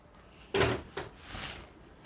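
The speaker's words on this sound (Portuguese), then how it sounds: "Gatos derrubando porta-retrato, gente, desculpa." Cats knock a picture frame over indoors: a sharp, loud clattering thud, then a smaller knock and a brief rattle as it settles, with no voices.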